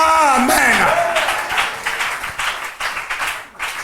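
A church congregation applauds during a sermon by a pastor, with a scattered burst of clapping and a speaking voice over the top at the start.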